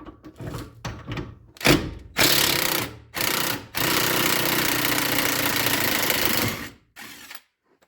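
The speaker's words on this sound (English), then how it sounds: "Here with the 18mm socket, and take the lower shock bolt out." An 18mm socket on a power tool loosens a car's lower shock bolt during a brake line job. Several short, loud mechanical bursts lead into a sustained whirring run that stops abruptly.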